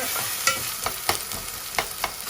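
Onions fry in oil for a Bangladeshi Eid dish, a soft continuous sizzle broken by five or six sharp stirring scrapes and taps at uneven intervals.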